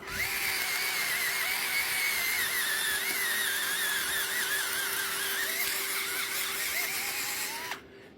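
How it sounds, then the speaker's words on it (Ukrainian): A cordless drill-driver whines continuously at high pitch, its tone wavering under load as it bores into dry hornbeam wood outdoors, then cuts off at the end. "цікаво, чи буде його викрутка свердлити"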